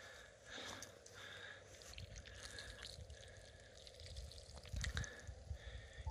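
Water pours and splashes from the outlet of a homemade 5/4-inch ram pump, an irregular trickling and gushing at moderate level with occasional stronger spurts, no talking.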